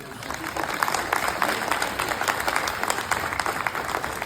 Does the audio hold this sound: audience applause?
yes